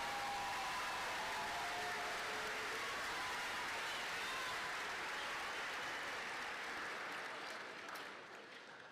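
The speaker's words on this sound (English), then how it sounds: "Please give a round of applause for our class of 2025 valedictorians" A graduation crowd for the class of 2025 gives a long, loud round of applause for the valedictorians, a thick roar of clapping that holds steady and then tapers off toward the end.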